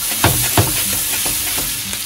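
Instant bagged yakisoba noodles stir-fried in a pan, giving a loud constant sizzle with a few scraping stirs of the spatula up close and no speech.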